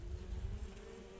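Honeybees buzzing around a hive after a swarm install, a steady low hum close by that lasts the whole brief moment with no voices.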